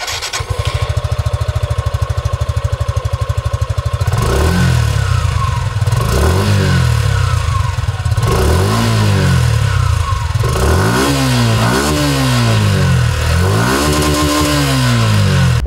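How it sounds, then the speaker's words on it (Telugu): A Suzuki Gixxer SF150 motorcycle idles with a steady rumble, then its exhaust rises and falls in a series of repeated revs that climb higher and more quickly toward the end, loud and close with no talking. "ఈ బైక్ ఎగ్జాస్ట్ నోట్ ఎలా ఉందో ఒకసారి చూద్దాం మనం."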